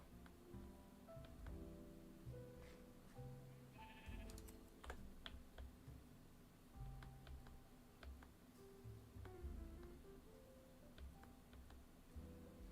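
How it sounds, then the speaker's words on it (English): Pink sheep bleating in a blocky survival video game, several short bleats scattered over soft background music, with clicking keyboard taps and small ticks throughout. "Wow, I found a naturally spawning pink sheep."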